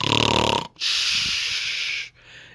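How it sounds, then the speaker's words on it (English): A giant snoring loudly in a fairy-tale story, heard as a long rattling inhaled snore followed by a drawn-out hissing exhale, close and loud, with no talking. "When the giant was snoring loudly"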